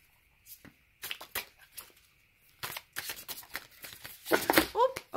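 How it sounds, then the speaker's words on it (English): Tarot cards are shuffled in quick riffling bursts and flicks, close and crisp, with short pauses between handfuls. "I'm going to shuffle from these guys since they fell out."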